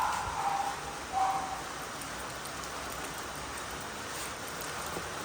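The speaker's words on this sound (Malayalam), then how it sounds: "പുറത്ത് പെരും മഴയാണ് കേട്ടോ." Heavy rain pours steadily outside a house, a continuous faint hiss of drops on surfaces with no break, distant and even throughout.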